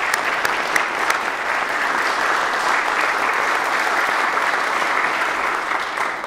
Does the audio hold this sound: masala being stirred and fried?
no